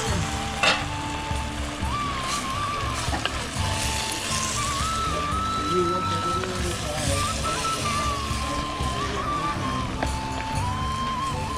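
Chicken frying in a pot over a wood-fired clay stove gives a continuous loud sizzle with stirring scrapes, while people talk throughout.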